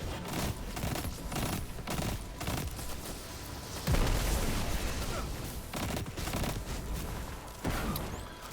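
Rapid bursts of gunfire from the video game Destiny 2, firing against enemies in a solo quest mission; dense, continuous volleys with louder impacts and booms, loud and sustained throughout.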